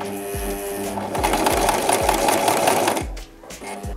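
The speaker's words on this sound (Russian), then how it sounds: "И вот так вот я подогнула и начинаю прострачивать." A sewing machine stitches thin shirt fabric in a fast, even mechanical rhythm. The run grows louder in the middle, then slows and stops before a short restart, with no voices.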